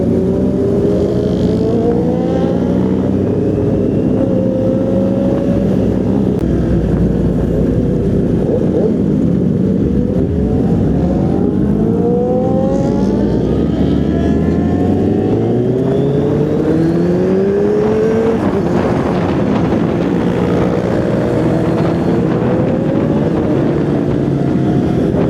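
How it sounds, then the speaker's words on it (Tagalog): Loud, continuous motorcycle engine noise with rising and falling revs as the bike is ridden on a Samar-Leyte road loop in the Philippines, with wind buffeting throughout. "ang ingay ng motor ni Andrea."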